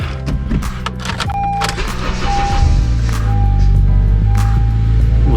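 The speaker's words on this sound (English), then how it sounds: "I'm finally starting it up." A 9th gen Honda Civic Si fitted with a cold air intake cranks and starts up, its engine settling into a steady, loud idle with a whirring starter at the outset and no talking.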